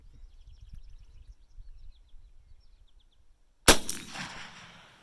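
A Winchester 1892 lever-action rifle in .357 Magnum with a 20-inch barrel fires a single 180-grain hard-cast gas-checked HSM bear load, one loud sharp report after a quiet stretch of faint birdsong, ringing out briefly.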